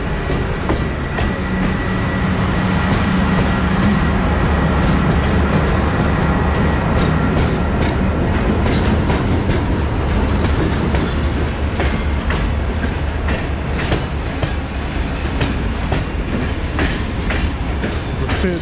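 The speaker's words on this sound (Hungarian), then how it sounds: "És épp jön be a vonat, amivel menni fogunk." A train pulls into Cluj railway station in Romania, its wheels clattering steadily on the rails with periodic clicks and a constant loud rumble throughout, no voices over it.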